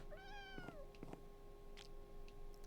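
A single cat meows in the Minecraft video game, one short rising and falling call near the start, followed by a few faint clicks over a quiet background hum.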